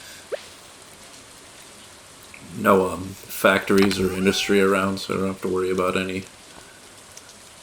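Steady rain in the Stardew Valley farming game patters through the whole clip as a soft, continuous hiss beneath someone talking.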